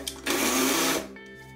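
Shrimp chopped in a food chopper or processor, a loud steady whirring burst of motor and blade lasting under a second, then cutting off to a fading hum; no talking.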